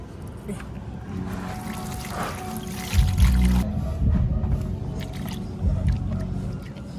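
Water is poured and splashes into a container to prepare a bath for pigeons, a close trickling and gushing stream that swells in bursts, with faint background sounds.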